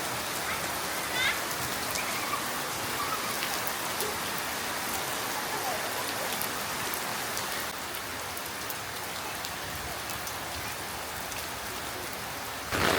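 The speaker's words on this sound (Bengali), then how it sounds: "এখন আইসে বৃষ্টি একেবারে প্রপার" Heavy rain pours steadily, a dense, continuous hiss of drops drumming on surfaces nearby at a home kitchen, unbroken for the whole stretch with a faint low rumble beneath.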